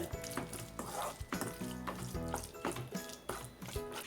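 Egg chilli frying in a pan on a low flame, stirred with a spoon or spatula, giving a steady close sizzle broken by repeated scraping and clinking strokes against the pan.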